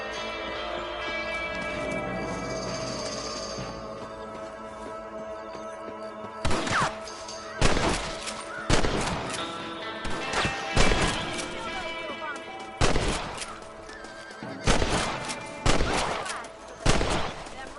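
Rifle shots fired at rabbits in Red Dead Redemption on PS4, a series of sharp loud cracks spaced irregularly over about ten seconds, each with a short echoing tail, over ambient game music.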